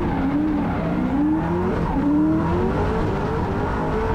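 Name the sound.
drift car engine revving with tire squeal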